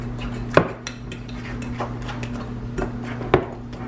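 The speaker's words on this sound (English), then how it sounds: "Take my fork and I just blend it up." A fork mixing brownie batter in a bowl gives a few sharp clinks and scrapes against the dish, loud and close, over a steady low hum.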